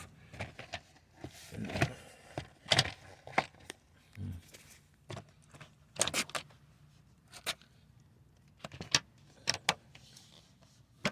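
Scattered plastic clicks and snaps of trim clips snapping into place on a Lexus LS460, with rustling and handling noise, a few sharp pops standing out, close by and uneven in rhythm.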